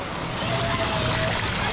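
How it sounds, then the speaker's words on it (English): Water surges and churns in a wave pool at Universal's Volcano Bay water park, a loud, steady, unbroken roar close to the listener for the whole moment. "Here's the waves."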